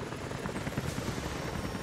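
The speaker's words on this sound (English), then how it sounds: "helicopters are headed your way." Helicopter rotors approach in Rise of the Tomb Raider, a steady loud chopping whir with a deep engine rumble that holds throughout and gradually fills the scene.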